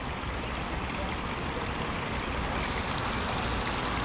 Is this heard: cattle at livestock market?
no